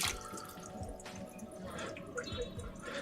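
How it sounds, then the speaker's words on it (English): Water runs from a kitchen tap into the sink as a measuring cup is rinsed, a steady close splashing stream with soft drips throughout, moderately quiet. "let me get my cup measure out of the sink here. I need to rinse this off."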